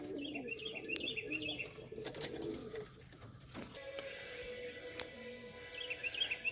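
Homing pigeons coo softly in a backyard loft with a nesting pen, their low repeated calls mixed with brief chirps and a sharp wingbeat or clatter, the birds sounding close and moderately loud.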